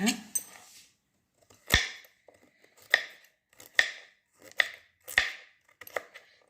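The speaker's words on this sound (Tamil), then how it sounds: "இதே போல் எல்லாத்தையும் நறுக்கிக்கலாங்க." About six sharp knife chops through cassava strike a cutting board one after another, close and crisp, with short pauses and quiet rustling between.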